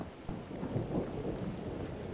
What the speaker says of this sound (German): Jo, geiles Gewitter.